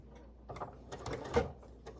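A sewing machine runs in short bursts while back-stitching a pot holder: quick mechanical needle clatter with brief pauses, close and fairly quiet.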